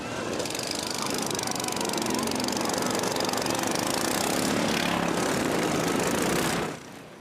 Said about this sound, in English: Ordinary lawnmowers are transformed into high-speed machines